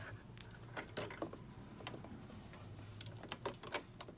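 A sewing machine stitching a shoulder seam on a duster garment, with quiet mechanical whirring and rhythmic clicking of the needle mechanism, soft and close with short pauses between runs.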